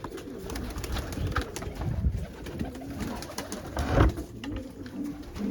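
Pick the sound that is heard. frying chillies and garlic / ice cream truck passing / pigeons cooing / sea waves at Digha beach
pigeons cooing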